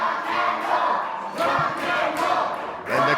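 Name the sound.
wrestling crowd cheering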